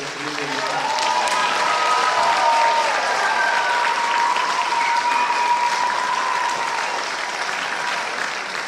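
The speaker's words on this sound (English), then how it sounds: "another round of applause for our conductor and for the Oroville Community Festival" A concert audience in Oroville, California gives loud, sustained applause for the conductor at a community spring concert, a dense wash of clapping with a few cheers and whistles rising through it.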